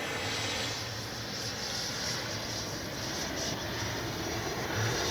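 An Arrows RC F-15 twin 64mm EDF jet model comes in to land with a continuous loud, airy whine and roar of its ducted fans. The sound holds steady throughout with no pauses.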